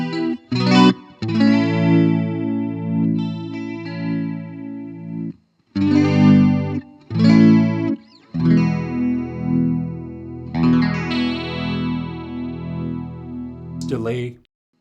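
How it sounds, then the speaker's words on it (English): Vox DA5 practice amp playing guitar through its rotary reverb effect, sustained chords with a swirling, pulsing modulation and reverb tail, played in several loud phrases separated by short pauses. "Rotary reverb."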